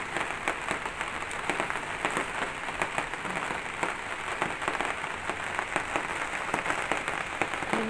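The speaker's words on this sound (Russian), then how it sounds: "Дождь идет такой." Rain falls steadily in a dense, even patter with scattered louder drops, constant throughout and heard without talk.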